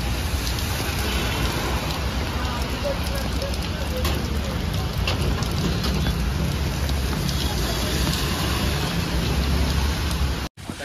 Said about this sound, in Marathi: सगळ्यात जास्त पाऊस लागतोय